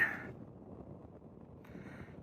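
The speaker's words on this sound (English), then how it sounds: "It's windy up here." Night wind gusts against the microphone high on a mountain cliff along a trail near McAfee Knob, a brief, rumbling buffet with no talking.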